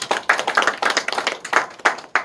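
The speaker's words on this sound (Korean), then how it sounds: "정우영 변호사님 큰 박수로 맞아주시기 바랍니다" Audience applause welcoming attorney Jeong Woo-young at a port logistics panel discussion: a couple of seconds of close, dense clapping with uneven surges, no voices.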